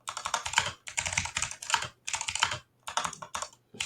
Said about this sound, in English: I cannot fucking type this morning.